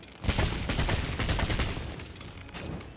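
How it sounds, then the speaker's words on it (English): A rapid string of explosive-arrow blasts from the Dragon's Dogma fantasy game rumbles loudly with crackling detonations that tail off, close and unaccompanied by speech. "That's 3 explosions."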